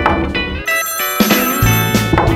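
Telephone ringing with a loud, close electronic ringtone in repeated bursts, heard alone with no talking.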